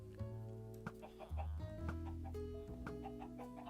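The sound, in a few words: chickens clucking in the video game Minecraft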